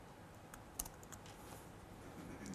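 Quiet clicks and taps from a computer keyboard being typed on during a live coding demo at a developer conference, a short burst of keystrokes against a soft room background.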